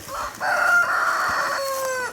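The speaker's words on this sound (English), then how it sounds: "I got a rooster that's old enough to crow now." A young rooster crows once, a long drawn-out call at moderate distance, clear over a quiet background.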